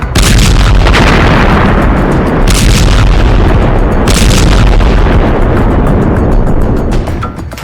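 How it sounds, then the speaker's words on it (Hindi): Powerful explosions from 500-pound bombs falling on Gaza City keep booming loudly and continuously, with heavy blasts overlapping into a sustained roar. "500 पाउंड के गिरे बम।"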